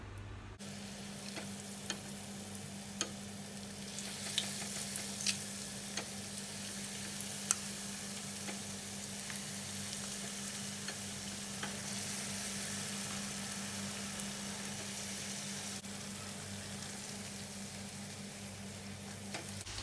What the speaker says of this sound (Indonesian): Panaskan wajan, kemudian goreng dengan minyak sedang.